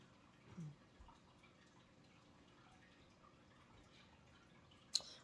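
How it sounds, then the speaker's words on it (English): Rainwater drips from redwood trees after a rain shower, falling as sparse, faint drops with one sharper drip near the end over a quiet outdoor background. "The redwoods are just dripping."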